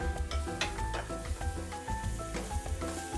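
Goya salchichon frying in a pan for Spanish-style yellow rice with pigeon peas, giving a steady, close sizzle with faint stirring and scraping throughout.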